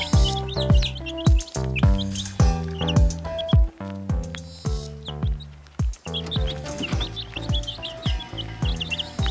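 Newly hatched chicks in hatching baskets on a poultry farm chirp in a dense, continuous chorus of high peeps, close and loud, with no voices.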